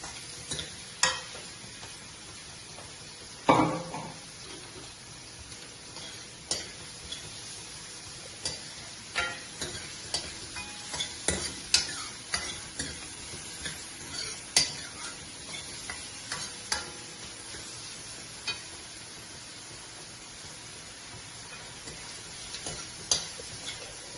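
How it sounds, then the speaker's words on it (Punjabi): Chopped onions fry in a pan for palak paneer, a steady sizzle broken by scattered scrapes and clicks of a spoon stirring them, close and fairly quiet throughout. "ਤੇ ਹੁਣ ਆਪਾਂ ਪਿਆਜ਼ ਪਾਉਣ ਲੱਗੇ ਆਂ ਚ ਪਿਆਜ਼ਾਂ ਨੂੰ ਆਪਾਂ ਚੰਗੀ ਤਰ੍ਹਾਂ ਭੁੰਨ ਲਾਂਗੇ"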